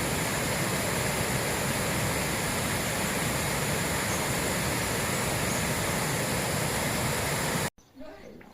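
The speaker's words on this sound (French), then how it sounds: "Une belle cascade." A waterfall pouring from rock on a mountain hiking trail gives a loud, steady broadband roar that holds constant for about eight seconds, then cuts off abruptly, leaving faint quiet ambience.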